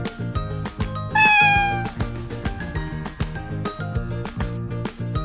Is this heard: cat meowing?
yes